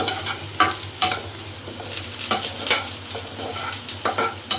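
Onions frying in a pan until golden for mutton biryani, a steady close sizzle broken by several sharp stirring scrapes and clatters, with no talk.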